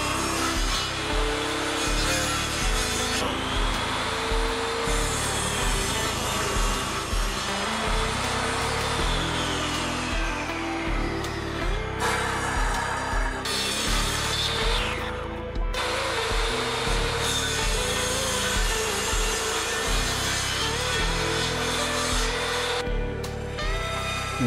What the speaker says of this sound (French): J'effectue la plupart des découpes avec la scie sur table.